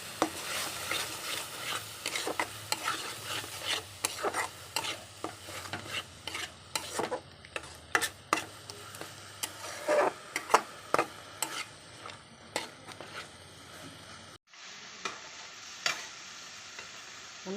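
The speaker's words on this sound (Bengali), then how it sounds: "বন্ধুরা মশলাটাকে এখন আমি ভালো করে কষিয়ে নেব।" Ground cumin and coriander powder stirred and fried in a pan, with repeated scraping and clinking strokes of a spoon over a soft, steady sizzle, close and moderately loud, with no talking.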